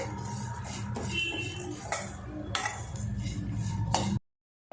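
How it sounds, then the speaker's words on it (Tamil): Grated coconut roasting in ghee over a low flame while being stirred, with scattered clinks and scrapes of a spoon against the pan. The sounds are fairly quiet, close, and irregular, and they stop abruptly near the end. "இது லோ ஃப்ளேம்லேயே இந்த தேங்காயோட பச்சை வசம் போகிற அளவுக்கு நம்ம நெய்யில் வறுத்துக்கலாம்"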